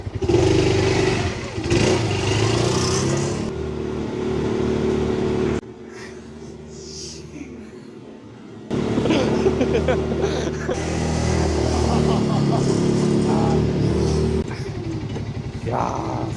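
A Segway Fugleman UT6 UTV drives slowly in low gear at a campground, its engine droning steadily with a rumbling clatter that drops briefly and then returns, while people talk throughout.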